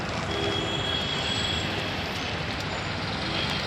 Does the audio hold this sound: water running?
no